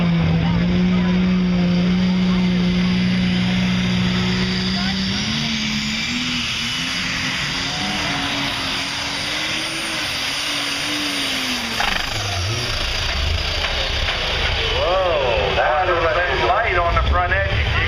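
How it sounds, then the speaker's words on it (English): The alcohol-burning New Holland pulling tractor's engine roars loud and close during a pull run, a sustained heavy drone whose pitch climbs and wavers, with crowd noise and an announcer's voice under it. "Watch the wheel speed on the alcohol burning New Holland."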